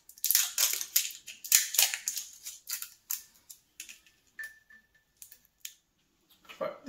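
Plastic packaging of a SodaStream Crystal 2.0 being handled and torn open: close, loud crinkling and crackling in irregular bursts, tapering into sparser rustles with brief quiet gaps.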